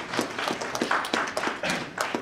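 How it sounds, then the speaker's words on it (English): A small audience at a book launch in Delhi claps in a loose, uneven patter of separate hand claps at close range, with a few sharper claps standing out. "Please give them a round of applause."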